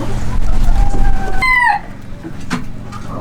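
Chickens in a big aviary cluck while a rooster crows loudly and close by, with the rest of the flock of hens and roosters murmuring around it.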